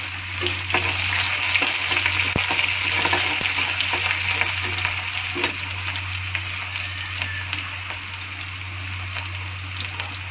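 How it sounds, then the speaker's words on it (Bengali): Cumin, cardamom and cinnamon frying in oil alongside chopped onion, a loud steady sizzle with scattered crackles and scraping stir knocks, close up over a constant low hum, no voices. "একটা জিরা ছেড়ে দিলাম, দিয়ে ভালো করে নেড়ে করে এর মধ্যে একটা এলাচ, একটু দারচিনি দিয়ে দিচ্ছি।"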